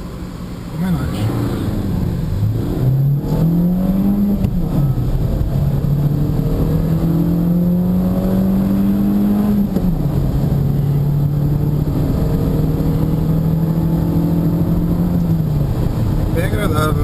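A Renault Duster 1.6 car accelerates hard, its engine pitch climbing steadily through several gears with clear drops at each shift. The engine is close and loud throughout, with some talk in the background.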